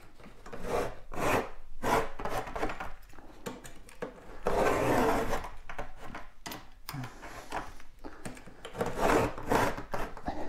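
Utility knife scoring drywall along a T-square, a dry rasping scrape repeated in several steady strokes, close and fairly loud, with no talking.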